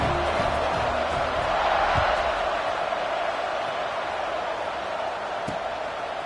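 A football stadium crowd waits before a kickoff, a broad, sustained murmur and roar of many voices with a brief swell of cheering and a couple of sharp thuds, heard at a distance and fairly even throughout.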